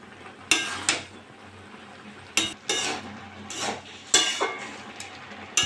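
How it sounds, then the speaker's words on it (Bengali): Cabbage and vegetable curry being stirred in a pan: a series of distinct utensil scrapes and clacks against the metal, about six strokes in uneven rhythm, over a faint low sizzle, close and fairly quiet. "এটা একটু নেড়ে দেবো।"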